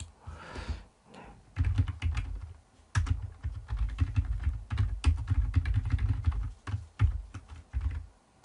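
Steady typing on a computer keyboard while entering text in PowerPoint, with rapid, uneven key clicks and heavier thumps in bursts, close and fairly loud, with brief pauses between runs.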